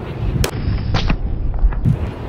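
Pistol shots from a Hi-Point .380 fired at a target 70 yards away at an outdoor range, three sharp loud cracks spaced unevenly with brief echoing decay between them.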